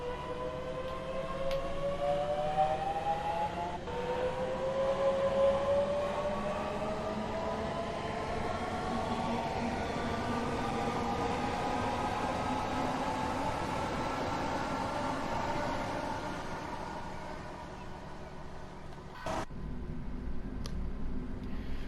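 Class 465/9 electric multiple unit running between Gravesend and Dartford, heard from the driving cab: a steady rumble with rising and falling motor whine throughout, then a sharp clunk near the end.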